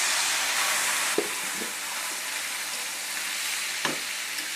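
Steady, hissing sizzle of onion and cumin frying in hot oil, with a couple of soft clinks from stirring.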